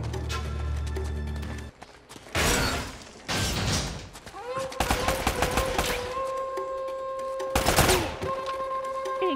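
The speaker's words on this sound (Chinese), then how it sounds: "一枪爆头！" Sharp gunshot bursts from a firefight in Uncharted on crushing difficulty, several loud cracks in quick succession with ringing tones between them and a final heavy shot near the end.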